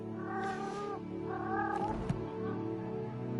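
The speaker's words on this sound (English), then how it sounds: "what is wrong with my cat over here making all this noise" A pet cat meows loudly and repeatedly at close range, drawn-out harmonic cries with a caterwauling quality, over a steady low background hum.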